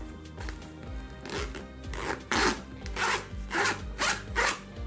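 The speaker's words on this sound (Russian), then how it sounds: "проверяем замочки" Zippers on a tactical military camping bag being opened and closed in several rhythmic rasping pulls, close and clear, with faint rustling between them.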